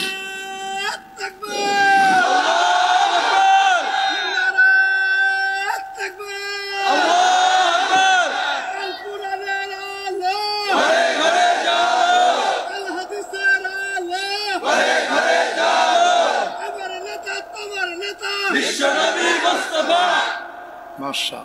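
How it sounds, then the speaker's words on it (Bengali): A large crowd roars the takbir chant in unison, five loud shouted bursts a few seconds apart with short pauses between them. "লিল্লাহে তাকবীর, জোরে একজন তাকবীর দেন তো দেখি।"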